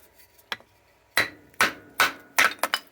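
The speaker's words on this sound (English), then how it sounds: "Just trying to split up a little bit of kindling, just split it a little bit littler." Sharp knocks split kindling with a Casstrom no. 10 Swedish Forest Knife, a few hard close whacks spaced out, then a quicker cluster of strikes near the end.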